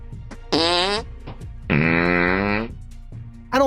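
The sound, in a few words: HK G11 rifle venting gas through pressure relief diaphragm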